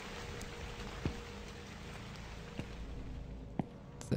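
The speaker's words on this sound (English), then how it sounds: "What's that noise? Is it raining?" Faint, steady rain hiss in the horror video game The Convenience Store, a soft continuous patter with a few sharp isolated knocks scattered across it.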